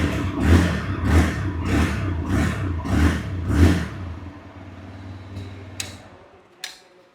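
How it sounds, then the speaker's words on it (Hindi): A TVS Raider 125cc motorcycle engine fires up and runs with a rhythmic, throbbing low pulse, then settles into a smoother hum before a few sharp clicks at the end. "साउंड को अगर मैं आपको इस गाड़ी का सुनाऊं तो आप यहाँ पे सुनना"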